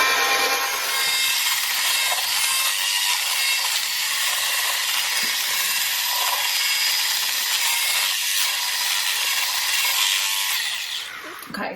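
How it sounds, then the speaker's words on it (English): Shortbread dough mixture for keto coconut shortbread is whisked in a bowl, a loud, continuous close scraping and rubbing that runs nearly unbroken until it stops near the end. "So you just whisk it again."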